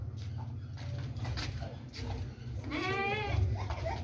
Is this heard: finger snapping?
no